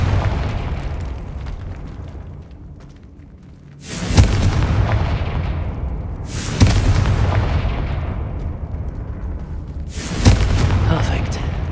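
Three loud fiery spell blasts from the Confringo curse in Hogwarts Legacy burst out at steady intervals, each a sharp broadband boom that decays slowly, over a constant low game rumble, with a player's voice speaking.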